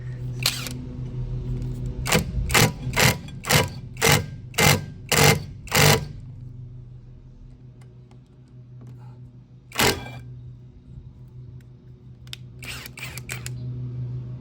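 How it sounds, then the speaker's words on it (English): A 1/2-inch impact wrench with an adapted T40 bit hammers at the rear brake disc bolts of a 2009 Ford Fusion: a rapid series of about nine loud bursts, then one short burst and a final cluster, over a steady low hum. "I'm going to use the 1/2-inch impact"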